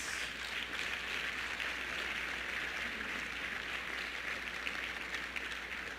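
A church congregation claps in a sustained, even wash of applause that sounds somewhat distant, with a steady low hum underneath.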